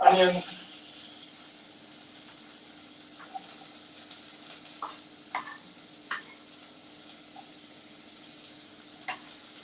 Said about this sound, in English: And they're going to sizzle straight away.